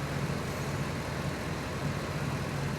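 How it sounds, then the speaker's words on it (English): An old Ford truck engine idles steadily with a low, even hum throughout, close and continuous with no talk over it. "It's idling better."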